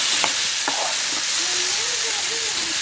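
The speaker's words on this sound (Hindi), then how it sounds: "आपने इसमें चने डालकर इसको अच्छी तरह भून लेना है।" Boiled chickpeas frying in a pan with cumin and tamarind pulp, a steady bright sizzle with a few stirring scrapes, close and loud, no talking.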